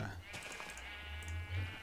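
Sheep on a video game sheep farm let out short, quiet bleats, heard faintly under a voice talking throughout.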